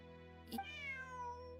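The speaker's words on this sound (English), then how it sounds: "A cat?" A cat meows once inside the Genshin Impact video game, a clear, drawn-out meow with a falling pitch, heard alone over a quiet, steady background hum.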